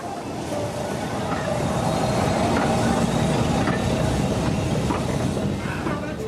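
A railway train rolls steadily past at close range, a continuous rumble with rhythmic clickety-clack of wheels on rail joints and a faint metallic hiss, with no voices over it.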